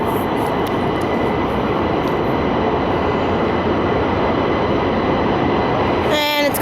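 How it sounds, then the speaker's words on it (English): Red Line subway train arriving at the platform of the North Side underground station in Pittsburgh, a loud continuous rumbling roar of wheels and cars that fills the space, ending in a tonal whine as it slows. "Here comes a train."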